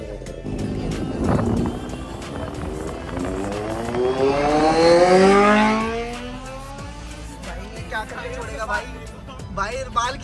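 A motorbike speeds off with a rising engine whine that sweeps upward, peaking loud mid-ride before fading into the distance, with people talking and shouting nearby.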